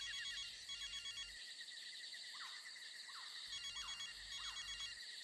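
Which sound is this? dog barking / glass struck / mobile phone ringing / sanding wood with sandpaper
mobile phone ringing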